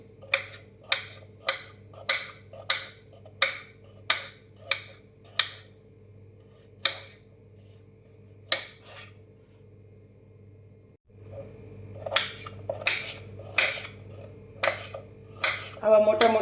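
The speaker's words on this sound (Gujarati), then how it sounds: "હવે આપણે બધા જ વેજીટેબલ કટ કરી લઈશું" A knife chops vegetables such as carrots on a board in a steady rhythm of sharp, close knocks, pausing briefly before resuming with quicker cuts.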